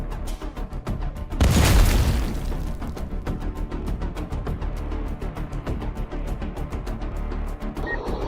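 A Russian tank explodes in a deep, booming blast that bursts out and rolls away, followed by a steady rumbling, crackling background that goes on after it.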